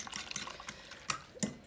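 Quick, light clinks and sloshing taps of a fork beating eggs in a bowl, brief and close, with no talking.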